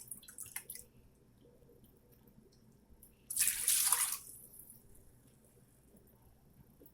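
Two cups of vinegar pour into a heavy bottomed pot for corn relish, a brief liquid splash and trickle lasting about a second amid a quiet kitchen with a few faint drips.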